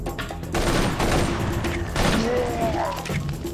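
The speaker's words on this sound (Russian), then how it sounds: "А че он турель по ним стреляет, а?" Turret gunfire in the shooter game Serious Sam 3: BFE, a dense continuous fusillade of rapid shots and booms lasting throughout, loud and close with a brief whistling tone near the end.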